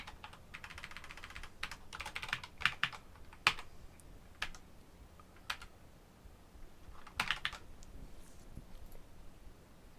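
Fast typing on a computer keyboard, close and quiet, with dense clusters of clicking keystrokes broken by brief pauses and a few single sharper taps, no voices.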